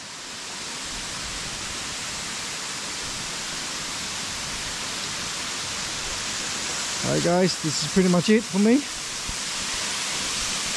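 The Bell Bird Creek waterfall in the Binna Burra rainforest gives a steady, loud broadband rush of falling water throughout. Someone talks briefly over it near the end.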